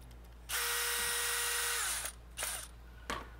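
A power screwdriver drives screws into a Talon Claw 4 gun grip: one steady whirring run of about a second and a half that winds down, followed by two short blips, all close and clear.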